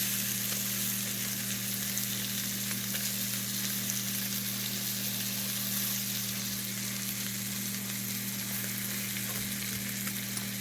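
Peppers and onions seasoned with salt, pepper, Italian seasoning and cayenne sizzle steadily in a pan, a close, even frying hiss with a low constant hum beneath and no talking.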